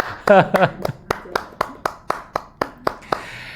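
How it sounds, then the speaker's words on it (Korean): Listeners at a Buddhist dharma talk clap in a slow, evenly spaced run of about a dozen distinct, crisp claps after a short spoken phrase at the start. "박수 한번 쳐주세요."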